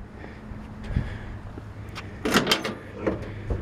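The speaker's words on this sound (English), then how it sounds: "Doors open and close nicely." A 1969 Chevrolet Camaro car door thuds shut, then opens and closes again with a quick latch clack, a few soft knocks around it in a quiet space.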